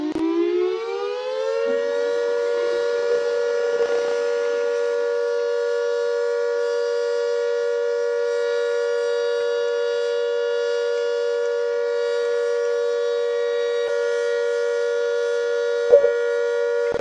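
A Secomak CS8 civil defense siren in Roblox rises to a loud, steady tone and holds it continuously, droning with no voices present.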